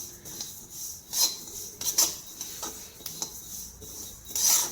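Sesame seeds dry-roasting in an iron wok, stirred in bursts of scraping, rasping strokes against the metal with quieter gaps between, close and moderately loud.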